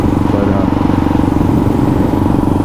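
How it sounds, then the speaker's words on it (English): Loud, close running of a Kawasaki KLR650 motorcycle engine, a dense steady single-cylinder thump that holds even without pauses or voices. "you can see this bike runs really good. It's not missing, you know, I can really rip on it"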